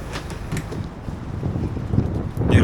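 Gusty wind buffeting the microphone at the marina in Lavrio, a rough, fluttering rush that swells and eases in uneven bursts.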